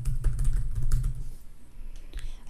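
Close, rapid typing on a computer keyboard in Google Docs, a dense run of clicky keystrokes that slows to scattered taps, no speech.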